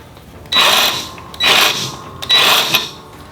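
A nut threaded onto the bolt of a Scag Patriot caster wheel on a zero-turn mower, heard as three loud, close bursts of ratcheting metal clicks separated by short pauses.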